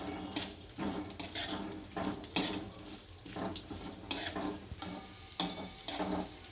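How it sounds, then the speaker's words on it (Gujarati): Cashews, pistachios and melon seeds roasting in ghee in a pan, with repeated scraping stir strokes and metal clatter over a low sizzle, steady and close. "આમાં હવે કાજુ નાખી દઈશું. આમાં પિસ્તા નાખી દઈશું. મગજતરીને બી નાખી દઈશું અને શેકી લેશું બધાને."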